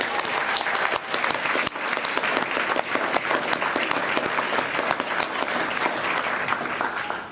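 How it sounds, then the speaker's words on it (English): An audience at a youth human rights awards ceremony applauds steadily, dense and sustained clapping filling the room throughout, with no speech over it. "So let's give them another round of applause."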